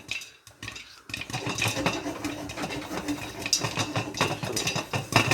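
Popcorn kernels popping in melted butter inside a pot: a dense, steady stream of sharp crackles and pops, close and fairly loud, starting after a brief quieter moment.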